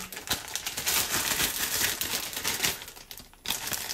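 A one-litre plastic zip bag being turned inside out, giving close, continuous crinkling and rustling that eases off briefly before a final crackle.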